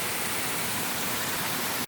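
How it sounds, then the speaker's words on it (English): Water spills over a beaver dam in a stream, a steady, loud, close rushing wash that holds even throughout and cuts off abruptly at the end. "you can hear the sound of the water going over"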